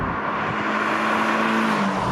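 Sports car engine, a 2017 Toyota 86 or 2013 Subaru BRZ, revving hard while cornering, a sustained, steady drone that rises slightly in pitch, heard alone over road noise.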